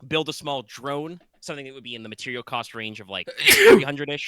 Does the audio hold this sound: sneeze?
yes